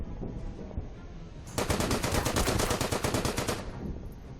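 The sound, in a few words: machine gun strafing run in the video game Order of Battle: Blitzkrieg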